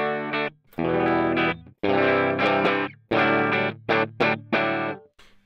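Electric guitar played through a Mooer Micro Preamp Two Stones dual-channel preamp with cab simulation, a series of loud distorted chords and short stabs with gaps between them, with no talking.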